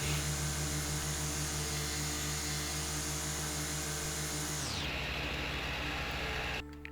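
A lawnmower engine hums steadily with a constant drone in the video game House Flipper, then its pitch drops sharply as it winds down and cuts out near the end.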